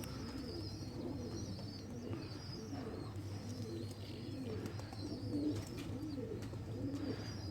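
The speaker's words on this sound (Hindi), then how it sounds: "ये नीले हरे कबूतर हैं" Blue-green Indian breed pigeons coo steadily in soft, overlapping rolling calls, close and continuous with faint background hiss and no talking.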